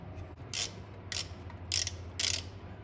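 Bolts being tightened on the throttle body of a Nissan D21 truck, heard as four short ratcheting bursts about half a second apart, close and fairly quiet over a low steady hum.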